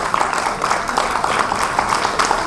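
Audience applause at a classical dance festival performance, a dense steady patter of many hands clapping, fairly close and sustained without pause.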